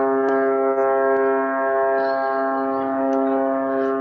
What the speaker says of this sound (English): Is that a foghorn from the barge?